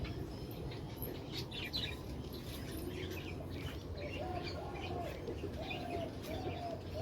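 Mynas at an outdoor feeding spot where grain is scattered for them give scattered chirps and calls over a steady, quiet outdoor background, with some cooing mixed in.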